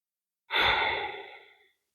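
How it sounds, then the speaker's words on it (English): A single long, slow exhale during a breathing exercise, close to the mic, starting strong and fading gradually over about a second, with no talking. "Breathe out long and strong."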